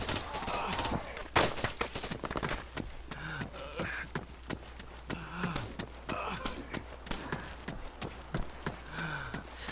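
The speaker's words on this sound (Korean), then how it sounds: "누가 쏜 거야?" Gunfire in the video game Arma 3 during a zombie escape mission, with scattered sharp cracks and bursts mixed with clopping, footstep-like game sounds and a voice talking.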